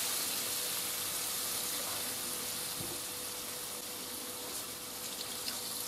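Steady water pours and splashes continuously into a pan of frying rice under a broad hiss, with no voices.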